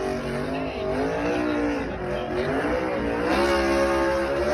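A NASCAR stock car doing a victory burnout on the front stretch at Gateway after the Enjoy Illinois 300, its engine holding a steady, loud, near roar with rising and falling pitch and tire squeal throughout, no speech.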